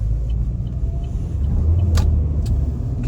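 Car engine rumble inside a vehicle accelerating quickly up a road at night in minus 11 degree cold, a steady low drone with a few brief faint clicks, no talking.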